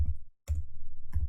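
Keys clack on a computer keyboard in two short bursts of clicking separated by a brief gap, close and fairly quiet, with no talking.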